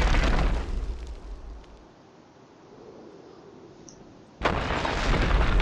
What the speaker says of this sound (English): One little car explosion did all of this.